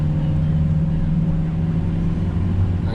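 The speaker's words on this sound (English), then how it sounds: "I can hear the engine picking up." A truck engine drones steadily while the vehicle picks up speed descending a steep grade on a brush and tree cleanup job, a continuous low hum with no distinct revving peaks.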